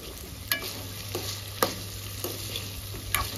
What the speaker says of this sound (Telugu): ఉల్లిగడ్డలతో పాటు మంచిగా ఫ్రై చేసుకోవాలి.